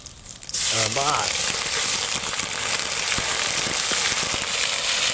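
Tomatoes hit hot gravy for a mutton curry and burst into a loud, steady sizzle with crackling spits that carries on after a brief voice at the start.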